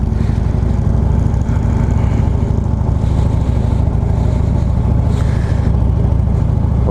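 A loud, close 2015 Harley-Davidson Street Glide Special engine rumbles steadily at a low idle in a parking lot, its deep throbbing note constant throughout with no voices.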